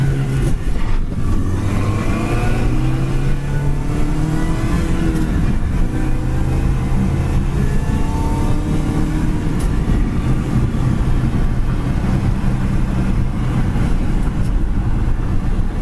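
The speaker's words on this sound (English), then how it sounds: "car runs and drives great down the road" A 2006 Mini Cooper convertible with a 6-speed transmission drives down the road, its engine humming steadily and close with shifting revs under constant road and wind noise.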